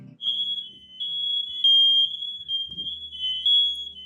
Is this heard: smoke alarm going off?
yes